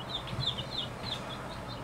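Chickens cluck and chirp in soft, repeated bursts over a steady background hum on a ranch in the farming game Ranch Simulator.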